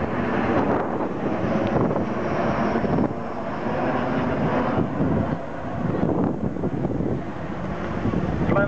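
Avro Vulcan XH558 jet bomber with four Rolls-Royce Olympus engines flying at an airshow, a continuous loud, rumbling roar with wind buffeting, swelling and easing slightly as it passes.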